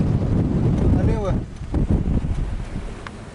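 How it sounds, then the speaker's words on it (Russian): Strong wind blowing across a village road, a loud continuous rushing gust with buffeting on the microphone and faint sounds mixed in underneath. "Общий ветер вон какой. Всю пыль с дороги подметает."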